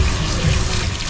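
Hot tap water runs steadily at a salon wash basin during a luxury haircut in India, a continuous close splashing rush with no speech.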